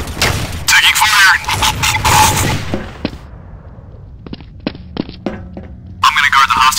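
Gunfire in Counter-Strike: Source, version 88: loud bursts of rapid automatic shots, then a lull with scattered single cracks and clicks before another heavy burst at the end, with a voice speaking amid the fire.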